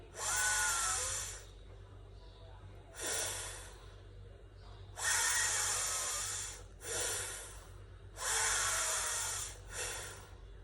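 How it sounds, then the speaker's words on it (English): Several loud, breathy breaths through the nostrils only during a yoga breathing exercise, alternating in and out at an unhurried pace, close to the listener with a low hum underneath. "inhale and exhale via your nostrils only"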